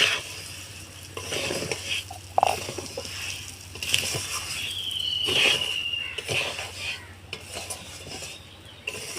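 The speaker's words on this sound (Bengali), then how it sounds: "আমি অল্প আঁচে চালটাকে একটু ভেজে নেব" Rice for basanti pulao fried over low heat and stirred in a pan, with irregular scraping strokes, occasional metallic knocks and a soft, continuous sizzle underneath, close and without speech.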